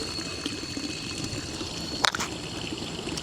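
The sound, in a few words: Zurich public drinking water fountain running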